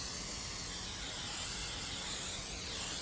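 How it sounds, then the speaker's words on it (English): Cooking spray hisses steadily from a can into a casserole dish for tuna casserole, one continuous close spray. "spray your casserole dish"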